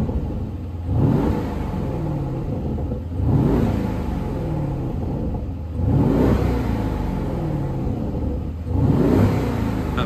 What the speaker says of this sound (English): Let's give her a little rev for you.